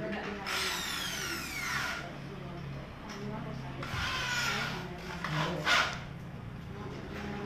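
A power drill whirs into wood in a few bursts during a water filter setup, with grinding and rubbing noises close by and a voice talking over it.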